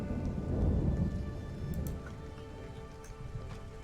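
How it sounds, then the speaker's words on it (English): Steady rain with low rolling thunder in the survival game Stranded: Alien Dawn, a dense continuous wash swelling early then settling into a constant patter, no voices. "The rain's here."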